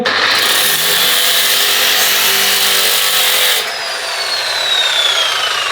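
A power sander grinds loudly and continuously against fiberglass on a surfboard fin, its harsh abrasive whine shifting in pitch partway through.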